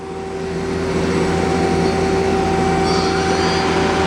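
A 2005 Mazak Quick Turn Nexus 350 CNC turning center with a 12-inch chuck runs its spindle at a steady 1,000 RPM, giving a loud, constant whine with a mechanical hum and rushing noise underneath, and no talk.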